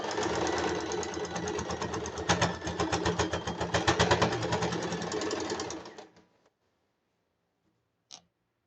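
A sewing machine stitching over pieces of quilt patchwork runs steadily for about six seconds with a rapid, even mechanical chatter, close and loud, then stops, followed by a single faint click.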